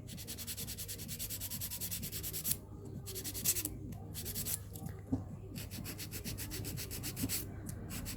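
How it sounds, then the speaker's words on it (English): A 100 grit file rasps steadily across an acrylic nail, shaping the smile line with continuous scratchy strokes and brief pauses between passes, close and fairly quiet. "So using my 100 grit file, just going to file this smile line."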